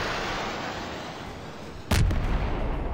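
A HIMARS rocket launcher in Garry's Mod fires a single sudden, loud booming blast that rumbles on briefly, breaking a quieter background.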